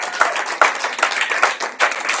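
A church congregation claps and applauds during a Sunday service, loud and dense, with a faintly pulsing rhythm and no voices standing out.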